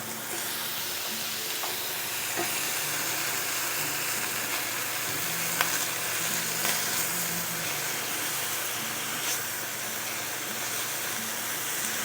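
Thin pieces of steak frying in oil in a pan, a steady broadband sizzle and hiss that holds evenly throughout, with a few faint clicks and pops and no talking.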